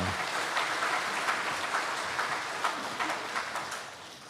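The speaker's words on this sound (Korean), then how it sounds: "우리 하나님께 영광의 박수 함께 올리겠습니다" Church congregation applauding during a Sunday worship service, a soft, steady wash of many hands clapping from across a large room, fairly distant and even, slowly fading toward the end.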